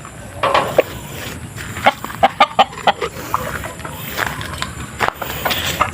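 Chickens and chicks in a backyard cluck and peep nearby, short irregular calls over a low outdoor background, with a few louder clucks standing out and no talking.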